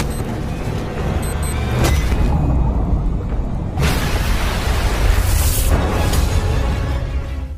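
A big explosion in a film, set off by a bomb thrown into a ship's engine room to kill a monster, comes as loud, deep, rolling booms and roaring blasts surging in waves for several seconds.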